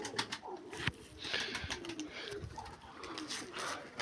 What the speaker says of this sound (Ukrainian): Отакі ось голубки.